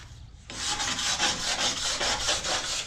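A wire brush scrubs surface rust off a 1972 C-10 truck. After a brief quiet start, it rasps steadily and loudly in fast back-and-forth strokes with no voices.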